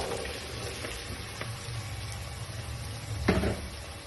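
Potatoes frying in a pan over a normal flame for an aloo anday dish make a soft, steady sizzle, fairly quiet, with a single louder scrape of stirring near the end.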